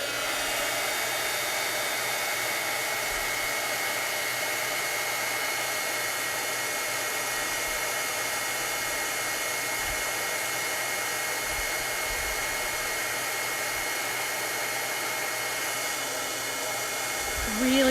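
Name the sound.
heat embossing tool blowing hot air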